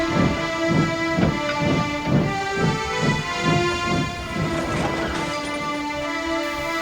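Steam locomotive Murdoch roaring out of the docks, a steady loud rumble with rhythmic chuffing beats and a sustained hissing, whistle-like tonal layer, close and continuous throughout.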